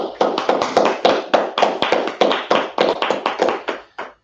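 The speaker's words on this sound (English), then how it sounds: "go ahead, clap it up" A small group claps in sharp, fairly regular bursts, close and loud, with distinct hand strikes repeating for several seconds before a final lone clap.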